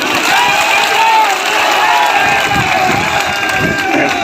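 A political rally crowd in Madhya Pradesh welcomes a leader with loud, sustained applause and cheering, a dense unbroken roar filling the space with voices mixed in.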